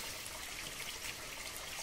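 Water flows steadily at the Lupungutu waterfall spring near Chaibasa, a soft continuous rushing and trickling with no voices.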